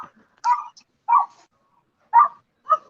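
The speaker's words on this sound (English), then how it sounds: "I'm outside and there's dogs barking." Dogs barking outdoors, four or five separate sharp barks spaced irregularly with quiet gaps between, fairly close and clear with no talking.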